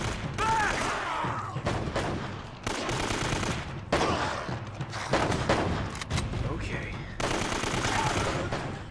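Bursts of automatic gunfire in the action game Uncharted: Drake's Fortune rattle in several separate volleys with short gaps between them, fairly close and dense with clattering impacts.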